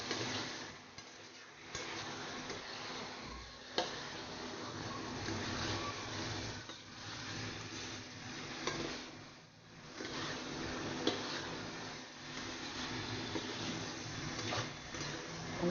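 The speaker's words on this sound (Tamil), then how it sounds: "நல்லா கிளறி எடுத்துக்கலாம்." Egg masala being stirred in a pan: quiet, continuous scraping and soft clinks of a spoon against metal with a faint sizzle, heard close and without talk.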